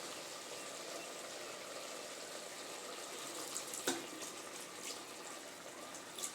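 Water poured into mutton gravy in a cooker gives a steady, even splashing rush with a faint clink partway through, with no talking.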